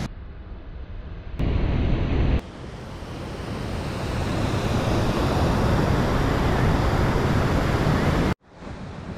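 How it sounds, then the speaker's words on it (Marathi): Kharpadi waterfall's rushing water roars as a loud, steady broadband wash that swells over several seconds, briefly cut at the start and end, with no voices. "तर दाखवतो तुम्हाला खरपडीचा धबधबा"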